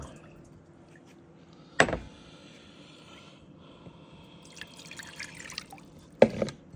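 Glass beaker rinsed under running tap water while recovering gold from computer components: a soft steady trickle with two sharp, loud splashing bursts near the start and the end.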